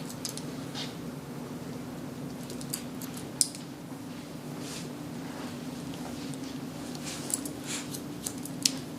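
Soft, scattered snipping ticks of Musashi thumb-swivel scissors point cutting hair, a few sharper clicks over a steady low hum, no voices.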